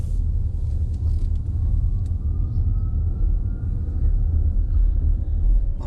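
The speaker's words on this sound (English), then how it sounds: "That whine on the motors is incredible." Interior of a 2020 Audi E-Tron 55 Quattro electric SUV on the move, a faint rising motor whine gliding steadily above a constant loud low road rumble, with no voices.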